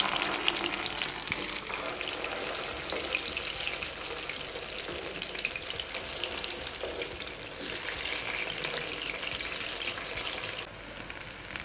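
Potato tikkis frying in a pan produce a dense, continuous crackling sizzle that holds steady for the whole stretch and eases slightly near the end, with no voices.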